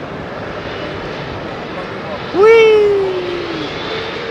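A Qantas QF2 airliner takes off from London Heathrow, its engine noise a steady, distant roar that swells sharply midway with a rising whine, while a voice cheers over it.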